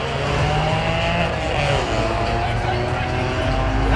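Small-tire drag race cars roar loudly down a dragstrip, a dense continuous engine blast with shifting pitch, close and dominant throughout, with no clear talk over it.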